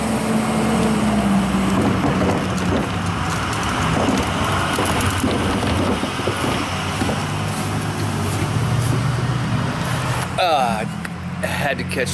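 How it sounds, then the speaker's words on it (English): A garbage truck rolls past on a residential street, its engine and road noise forming a loud, continuous rumble and hiss, with a brief whine near the end and muffled voices mixed in. "Had to catch the trash truck just for you, trash truck freaks"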